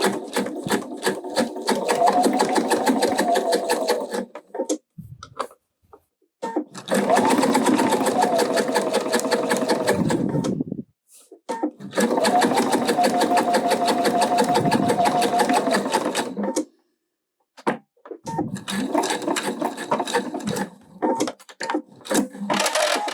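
A sewing machine topstitches along a backpack seam, running in long steady bursts of rapid needle clatter with brief pauses between passes.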